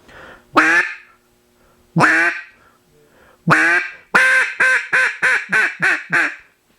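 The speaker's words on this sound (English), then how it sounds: "It's a lonesome hen call." A duck call blown in a lonesome hen closeout: three drawn-out, separated quacks, then a quick cascade of six shorter, descending quacks, loud and close.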